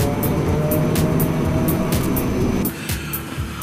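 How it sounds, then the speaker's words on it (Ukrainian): A Mitsubishi i-MiEV electric car gives off a steady electric hum like an old trolleybus, heard from inside during a drive. The droning stays continuous with road noise throughout and dips slightly near the end. "Він імітує звук. Е, Такого собі великого старого тролейбуса, який йде на взліт. Тобто він просто гудить неприємним таким електричним звуком."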